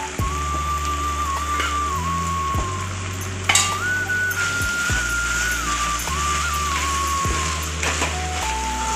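Ivy gourd stir-fry with chili powder sizzles loudly in a pan, steady frying crackle with repeated scraping strokes of stirring, close and continuous.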